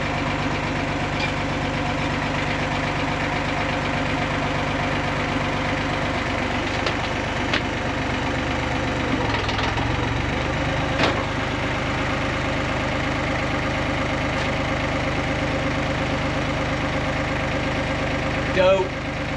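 A tractor idles nearby with a low, even mechanical drone and a faint knock under it, running steadily throughout, while a few people talk.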